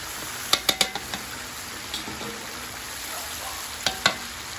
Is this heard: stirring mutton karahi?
yes